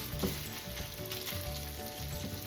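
Food toasting in a pan for gluten-free lasagna sizzles steadily and closely, a dense continuous crackle with no talking.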